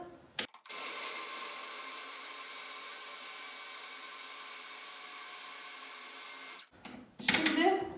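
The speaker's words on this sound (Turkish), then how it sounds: "Şimdi etimizi çekelim arkadaşlar." An electric food processor minces meat for köfte in a home kitchen, giving a steady, loud motor drone that runs about six seconds before stopping abruptly, followed by a brief clatter.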